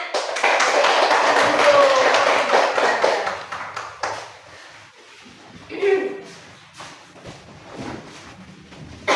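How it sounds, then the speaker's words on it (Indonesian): A classroom of primary school children claps for a presenting group, with a dense burst of rapid applause for about four seconds that then thins into scattered claps, taps and shuffling. "Sekarang kasih tepuk tangan untuk kelompok 2 nih, kasih semangat."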